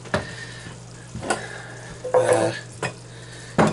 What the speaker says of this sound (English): Right now I'm going to add my tomato paste into my big pot of onions.